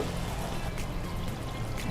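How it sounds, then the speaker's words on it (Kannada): Water poured into frying ground masala in a pan where mustard oil and cumin are cooking, a steady close trickling pour with low bubbling underneath, no voices. "ಸ್ವಲ್ಪ ನೀರು ಬೇಕು."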